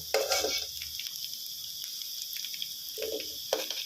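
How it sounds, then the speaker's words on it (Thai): Garlic frying in a little oil in a pan for a Thai stir-fry of tender chicken with suki sauce gives a steady, bright sizzle, broken by a few soft scrapes and stirs of a utensil. "เจียวกระเทียมให้เหลืองนะครับ อ่า นี่ครับ ใส่น้ำมันไปนิดเดียวพอนะครับผม"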